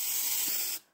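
Aerosol coating sprayed from the side onto an art piece, one continuous close hiss lasting most of a second before cutting off abruptly.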